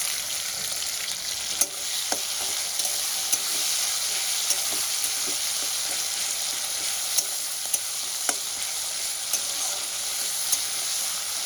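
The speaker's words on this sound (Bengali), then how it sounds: "আমি ভালো করে একটু কষিয়ে নেবো" Crushed ginger and green chilli sautéing in a pan of potato and aubergine curry, a constant bright sizzle with occasional sharp spatula taps against the pan, close and without talking.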